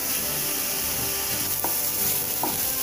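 Onions and green chillies fry in a pan for mushroom masala, making a dense, even sizzle close by. A couple of brief stirring scrapes break through it.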